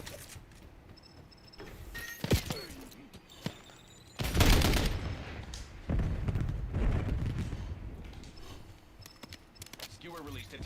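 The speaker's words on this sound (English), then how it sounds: "It feels like some of the shots don't even register when I'm shooting." Gunfire in the shooter Call of Duty Black Ops 7, scattered sharp shots and a heavy burst of rapid fire midway, mixed with game effects and voices talking over it.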